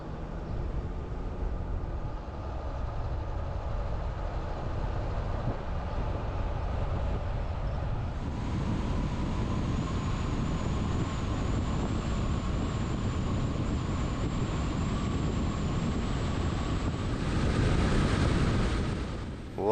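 Continuous low rumble of trains passing along Lincoln Highway 30 in Nebraska, a steady broadband roar that swells after a few seconds with a faint high whine on top and grows louder near the end, no talking.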